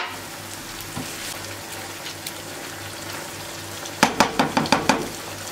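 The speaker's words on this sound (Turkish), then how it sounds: "Bir su bardağı sıcak su ekliyorum." A cup of hot water goes into a hot cooking pot. After a low, steady simmer, it hits with a sudden sizzle, followed by a quick run of crackling bursts that fade, loud and close.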